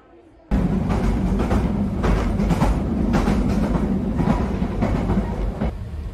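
An old London Underground tube train running on the Isle of Wight, its loud, steady rumble cutting in abruptly and carrying on with a rhythmic clatter of wheels over rail joints.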